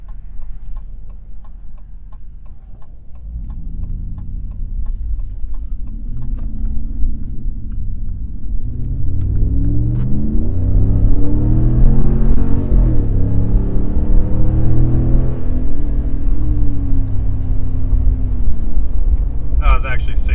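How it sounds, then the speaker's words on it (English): A Ram 1500 with a Borla S-Type exhaust pulls from a dead stop at full throttle, its deep exhaust drone climbing through the gears with brief shift dips, loud and close from inside the cab over faint ticking. "I'm gonna try a dead stop full throttle"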